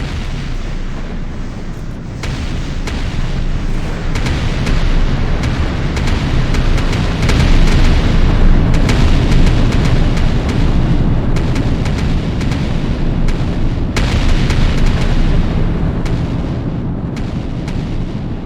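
Rocket turret in the video game Artificial Extinction 2 firing a steady, dense barrage of rockets, loud booming blasts and launches overlapping continuously throughout without pause.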